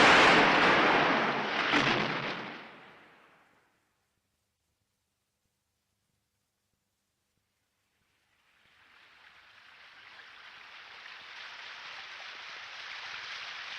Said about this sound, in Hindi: फिर जोर से बारिश आई।